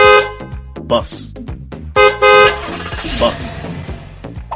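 A bus horn honks in a few loud, close blasts over a busy harmonic background of music or chatter, with a brief gap before a longer burst.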